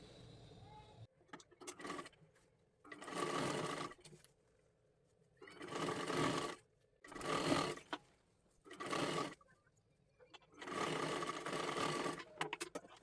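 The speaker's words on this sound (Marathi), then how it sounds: "इथून आपल्याला ही पूर्ण शिलाई मारून घ्यायची आहे" A sewing machine stitches a lehenga dress made from a bordered saree, running in five short bursts of rapid whirring separated by quiet pauses, close and distinct.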